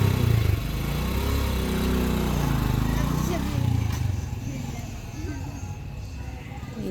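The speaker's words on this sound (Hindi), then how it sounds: "ये देखें माशाल्लाह मेरे बच्चे को मोटरसाइकिल चलाते हुए" A small motorcycle ridden by a child around an open ground, its engine running loud and close with a steady putter that eases off toward the end while someone talks over it.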